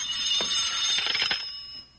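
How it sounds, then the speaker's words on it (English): A telephone rings indoors in an early evening domestic scene, a short bright ringing burst of rapid bell strikes that fades away, heard alone and fairly close. "with the ringing of the telephone"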